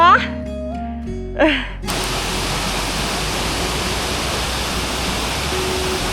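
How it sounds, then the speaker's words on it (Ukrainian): After a brief musical sting, a steady roar of rushing water takes over, a constant broad wash from a nearby waterfall in the Carpathian mountains. "вашій увазі представляється водоспад"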